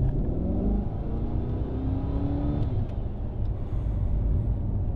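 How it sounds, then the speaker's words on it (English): A Chevrolet Corvette C8 with a V8 engine accelerates on a main road, a loud, steady, deep rumble heard from inside the car. It stays continuous and strong throughout with no speech. "Now you feel the V8 power in this car."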